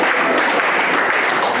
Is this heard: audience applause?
yes